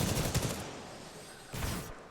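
Rapid bursts of shotgun fire in the first-person shooter Titanfall 2, loud and close, with a cluster of blasts at the start and another short volley a moment later.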